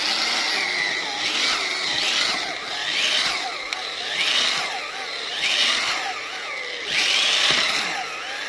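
A homemade electric drill with an auger bores steadily, its motor whining and surging in regular waves as the load rises and eases, loud and near.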